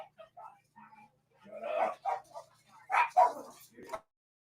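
A small dog yips and whimpers faintly in a quiet room, several short high barks and whines in an irregular run, fairly distant and soft.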